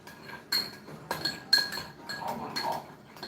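A spoon stirs a simple sauce seasoned with MSG and a pinch of salt in a bowl, giving three or four bright metallic clinks against the rim at an uneven pace, close up and otherwise quiet.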